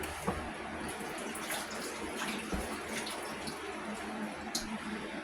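Running tap water pours steadily into a sink while fingers are rinsed under it, a continuous close hiss with small splashes and no talking.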